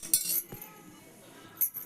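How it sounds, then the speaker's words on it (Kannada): A pressure cooker clanks onto a stove in a home kitchen, one bright metallic clink at the start and a second near the end, with quiet shuffling between and no speech. "ಈಗ ಕುಕ್ಕರ್ ಇಟ್ಟೇನ್ರಿ"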